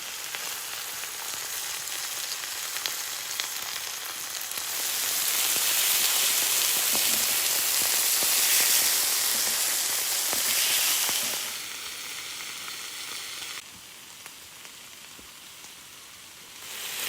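Steady sizzling hiss of meat frying in a pan outdoors in the mountains, swelling louder midway then easing off, with faint outdoor ambience and no talking.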